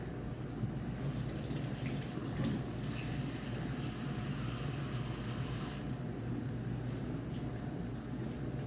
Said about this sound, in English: you want to fill them with water